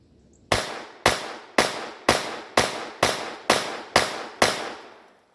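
Nine sharp gunshots from a Ruger LCP II pistol firing .22 LR rounds, evenly spaced about half a second apart, loud and close with short decays, no talking.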